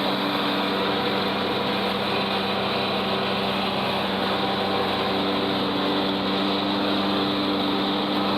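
A riding lawn mower runs at a constant droning pitch, steady and close, with no changes in speed throughout.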